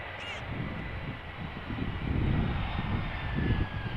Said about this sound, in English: there is a last minute 737 doing a short circuit. Arriving from the west.